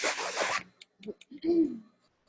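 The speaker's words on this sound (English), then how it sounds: "zipper's broken too." A broken zipper on a fabric bag being dragged open in one quick, close rasping pull, followed by a few soft hums and brief vocal sounds.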